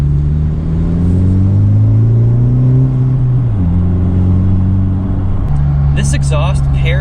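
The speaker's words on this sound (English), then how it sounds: "This exhaust paired with the PRL Cobra intake" A 2020 Honda Civic Si fitted with a MAPerformance street exhaust and PRL Cobra intake revs loudly up and down, its deep steady drone stepping through several pitch changes, with brief voices near the end.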